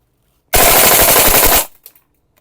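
A VFC SR16 E3 Mod 2 airsoft gas blowback rifle firing one full-auto burst, a loud, rapid rattle of shots lasting about a second, followed by a few faint clicks.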